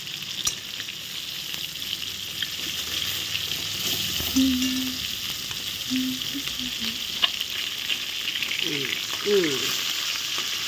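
Fish sizzling in hot oil in a frying pan, a steady crackle and hiss running throughout with occasional scrapes and stirring noises, heard close with no talking.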